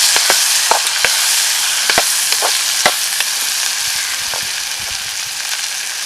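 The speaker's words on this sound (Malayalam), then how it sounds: "ഇത് നമുക്ക് നന്നായിട്ട് ഇളക്കി കൊടുക്കാം." Turmeric is stirred into rose apple (chambakka) pickle in a pan, with a continuous frying sizzle broken by sharp, irregular scrapes and clicks of the spoon, loud and close.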